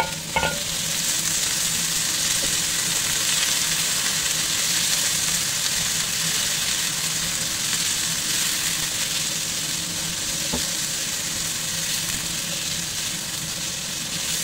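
Potatoes frying in a pan with garlic and onion, a steady, close broadband sizzle that holds evenly throughout, with a couple of faint clicks of a utensil against the pan.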